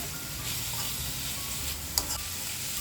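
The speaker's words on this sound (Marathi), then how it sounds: "टोमॅटो देखील आपल्याला छान असं परतून घ्यायचं आहे" Chopped tomatoes sauté in a pan over medium-high heat, giving a steady, close sizzle with a brief clink near the end. The tomatoes are cooking for a spinach pulao.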